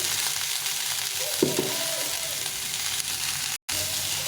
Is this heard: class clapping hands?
no